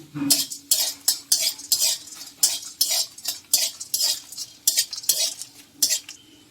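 Whole garam masala (mace, cinnamon and cardamom) fries in hot oil while a spoon scrapes the pan in a brisk, regular rhythm of loud, close strokes over a light sizzle.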